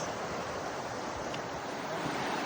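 Rushing creek water running high after heavy rain, a steady broadband roar of flow with no pauses, close and fairly loud, without any voices.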